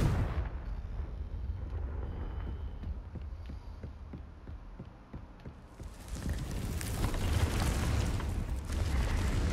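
A Confringo explosive spell in Hogwarts Legacy fires off as a run of rapid thumping impacts, then a heavier rumbling burst swells near the end. The sounds are moderately loud, with little speech.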